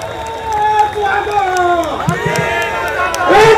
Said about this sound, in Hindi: और जोर से तालियां बजाइए